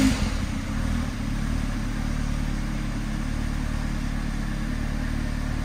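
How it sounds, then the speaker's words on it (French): A Peugeot 206 CC car engine fires up and settles into a slightly uneven idle, a steady mid-low drone nearby with a bump at the start and no talking. "On peut donc démarrer le véhicule et voir s'il tourne sur 3 cylindres ou plus."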